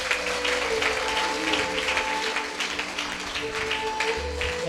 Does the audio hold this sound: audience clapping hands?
yes